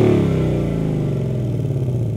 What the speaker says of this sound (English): everyone likes the sound of the exhaust from that Coyote V8